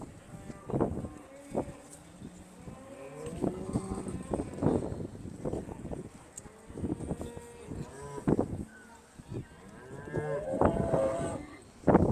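Aberdeen Angus cattle at show judging, bellowing in a string of repeated moos of varied pitch, some near and loud, others farther off, with a busy livestock-shed background.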